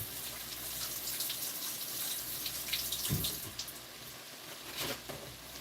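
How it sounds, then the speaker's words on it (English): A fresh lime is rinsed under a running kitchen tap, water streaming steadily into the sink with splashes and shifting gurgles as the fruit is turned, fairly quiet and close. "I'm going to wash this lime."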